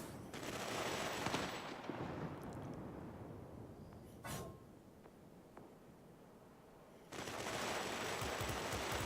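Aircraft machine guns firing in bursts during a flight combat game, loud dense rattling for about two seconds, a short crack mid-clip, then another sustained burst near the end over steady engine noise.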